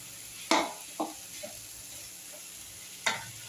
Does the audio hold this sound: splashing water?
no